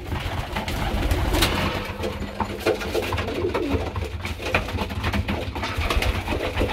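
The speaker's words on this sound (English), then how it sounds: "Just chaos in here at the moment because all the cockbirds are crowing and chasing everyone around." Pigeon cockbirds coo repeatedly inside a loft, their soft throaty calls overlapping in a busy chorus with flutters and scuffling from the flock.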